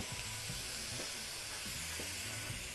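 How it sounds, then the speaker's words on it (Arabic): Liver, onion and garlic sizzle steadily in a hot pan, a constant close hiss with faint stirring scrapes and no talking. "نقوم مشوحين كله مع بعضه البصل مع الكبده مع الثوم"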